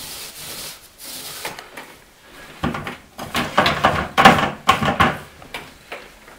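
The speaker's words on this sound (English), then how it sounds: "And this is a brand new roller, it's kind of fresh. So we're going to get the paint on there." A fresh paint roller works paint onto a wall in rhythmic rubbing strokes, quiet at first and then a loud, close run of back-and-forth rolls with a slightly sticky, rasping texture.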